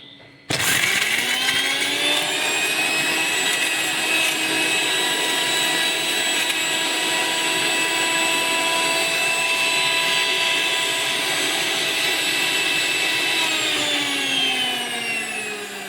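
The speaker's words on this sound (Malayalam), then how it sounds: "മിക്സി" A kitchen mixer grinder grinds dried chillies, starting abruptly and running as a loud, steady, high-pitched motor whine with rattling that holds for about thirteen seconds before slowing and winding down at the end.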